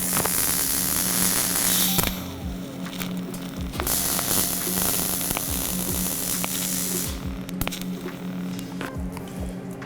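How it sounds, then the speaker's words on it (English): A TIG welder runs a test bead on flat 1/8 inch mild steel plate, giving a steady electric buzzing hiss and crackle with a constant hum, loud and close, and the arc noise shifts partway through. "I'm just gonna do a little test weld on the flat part"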